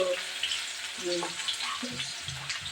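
Onion, cloves and ginger frying in a pan, a steady close sizzle running throughout while a voice talks over it.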